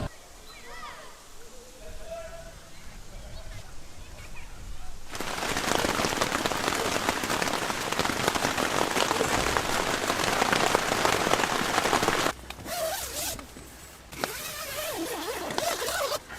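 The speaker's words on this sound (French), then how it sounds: "Là, il pleut encore." Rain falls during a canoe trip, first as a light patter, then swelling to a dense, steady hiss on a surface nearby, briefly easing toward the end.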